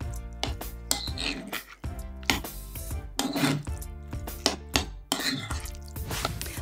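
Guacamole is mixed in a bowl with an irregular run of close scraping, rasping strokes and clinks of a utensil against the bowl, with no one speaking.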